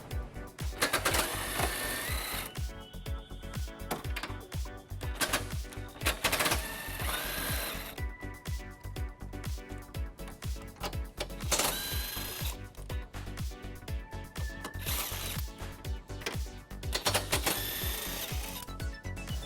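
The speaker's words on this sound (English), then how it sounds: "And we're going to remove those using an 18mm socket." Bolts on the bumper beam of a 2011 BMW X5 being removed with an 18mm socket, a steady, loud, rapid mechanical rattling of a power tool that runs almost continuously, broken by short pauses.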